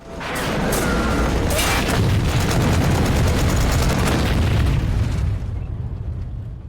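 A heavy tank cannon blast erupts into a long, roaring rumble that sustains for several seconds before tapering off.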